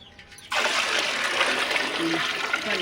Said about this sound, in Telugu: నీళ్ళు కొరవ కూడా పోసేసేయండి.